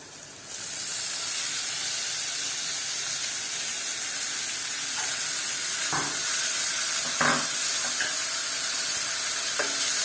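Onions and fenugreek leaves fry in oil in a pan, a steady close hiss and sizzle running throughout, with a few soft clicks of stirring breaking through now and then.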